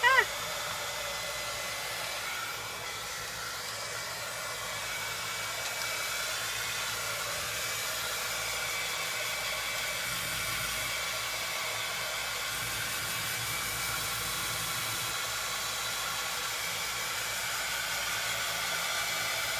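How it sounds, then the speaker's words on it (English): A heat tool blows with a steady, even whooshing roar as it dries paint on a honeycomb decor piece, running continuously and close throughout. "I'm going to plug in my heat tool and I'm going to get this dried up."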